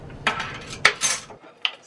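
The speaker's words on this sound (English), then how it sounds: "And I'm going to take my tablespoon. Just like that. I'm going to scoop it in there." Metal tablespoon clinks and scrapes in a bowl while scooping for a dark chocolate bark recipe, giving three or four sharp, close taps spread over a couple of seconds, with no talk.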